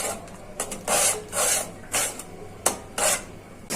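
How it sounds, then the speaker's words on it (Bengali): Spice paste for an ilish-head and taro-leaf curry being stir-fried, a spatula scraping across the pan in about six loud, rasping strokes with short pauses between them, close and without speech. "এখন ভালো করে মশলাটা কষিয়ে নিই।"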